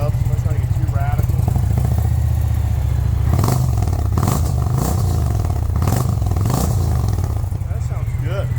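Indian Pursuit motorcycle fitted with slip-on mufflers, warming up: a steady low rumbling idle broken by several quick throttle blips that swell and fall, with someone talking over it.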